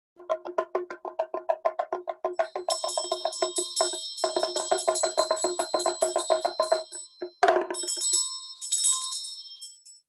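A ritual bell is rung during a Buddhist seven-branch prayer alongside a damaru hand drum, heard as rapid rhythmic drum strikes joined by sustained bright bell ringing, close and fairly loud with no speech.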